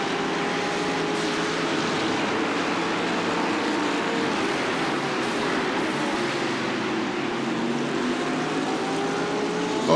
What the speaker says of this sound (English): Oh man, I just hear all the cars behind.